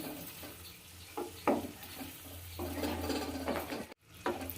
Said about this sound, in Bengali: এবার নাড়িয়ে দেবো